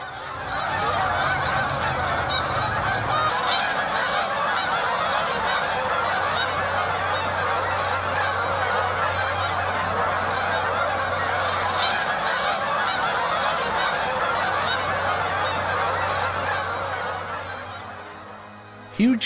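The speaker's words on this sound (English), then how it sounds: "The skies are filled with returning geese, and their sound is absolutely deafening." A large flock of Canada geese honks continuously, a loud, dense chorus of overlapping calls that carries on for a long stretch before cutting off.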